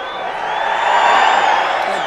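Stadium crowd before an Eagles vs. Jaguars NFL game, a steady broad roar of cheering and whoops that swells slightly toward the middle, continuous and fairly loud with no clear talk over it.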